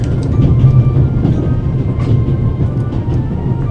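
An Orient Express train from the video game The Raven runs on steadily, a loud, continuous low rumble with faint rhythmic clatter from the rails and no voices.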